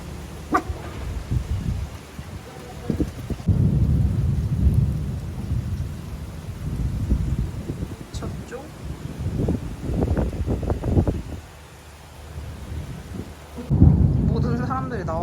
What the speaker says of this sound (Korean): 갑자기 비가 오고 천둥이 칩니다